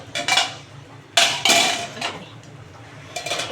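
A spoon clatters against a pot as a raw hilsa jhal fish curry is stirred, followed by loud metallic knocks and clinks as the lid is set back on, then quieter scraping.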